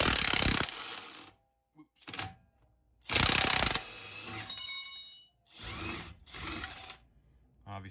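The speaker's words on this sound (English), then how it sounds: "I'm going to go ahead and remove the lower shock mount, which again, same as the rear, is going to be a 13/16 on both the nut and the bolt" A wrench ratchets off the 13/16 nut and bolt of a truck's lower shock mount during a leveling kit and Fox 2.5 reservoir shock install, in several loud bursts of rapid clicking separated by short pauses, with a voice speaking briefly.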